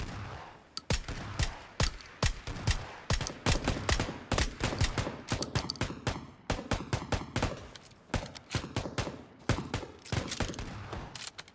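Rapid, sharp shots from a VSS rifle in PUBG (Battlegrounds), fired in dense strings and short bursts over about twelve seconds, close and crisp with brief pauses between volleys.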